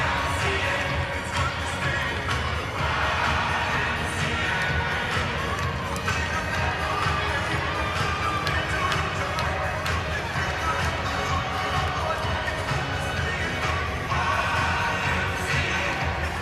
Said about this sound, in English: Got everyone in the crowd doing the YMCA.